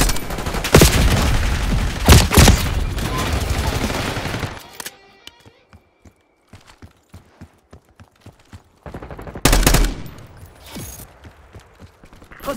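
Rapid bursts of automatic gunfire in Call of Duty Black Ops 6 ring out loud and close, then drop into quieter distant shots and clicking, before another sharp loud burst near the end.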